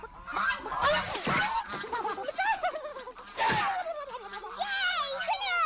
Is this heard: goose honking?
yes